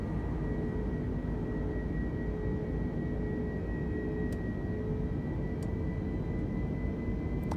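Airbus A320neo engines at climb power in Microsoft Flight Simulator, a steady, loud, unbroken roar with a faint high whine, continuous throughout with no talk.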